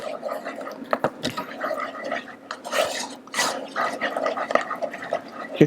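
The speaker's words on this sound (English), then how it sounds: "It's really boiling hard." Liquid boils hard in a pot on the stove near ninety-eight degrees, a continuous dense bubbling and gurgling with irregular louder pops, close and steady throughout.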